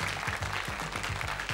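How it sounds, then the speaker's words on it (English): A studio audience at a 1988 Going for Gold quiz show heat gives a round of applause, a dense, steady wash of clapping lasting the whole short stretch with a faint voice underneath. "a good round of applause"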